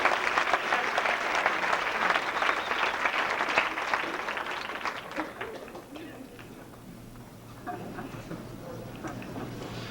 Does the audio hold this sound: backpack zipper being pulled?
no